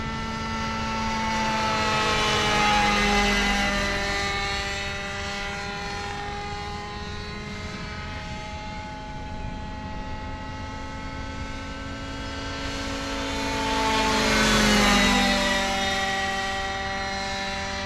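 An Airstar Mongoose RC model airplane flies over an RC field, its electric propeller whine rising and falling with strong Doppler sweeps as it makes two loud close passes around 3 and 15 seconds, fading somewhat between them.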